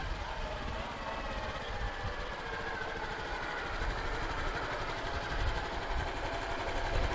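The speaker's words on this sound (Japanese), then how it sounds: "いやロングストロークエンジンいいじゃないですか。" A new Honda Super Cub 110 with a long-stroke engine hums along during a short test ride, a steady, fairly faint buzzing drone with road and wind noise and no speech.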